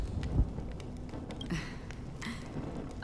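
Rain and thunder in the video game Honkai: Star Rail, a soft steady patter of rain with a low rumble, gentle and even throughout.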